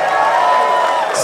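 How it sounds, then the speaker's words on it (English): Game-show crowd cheering for cannabis brands, a full, loud and steady wash of shouting and applause with voices blended in, holding level to the end. "Sonics, yo, come on, clap it up."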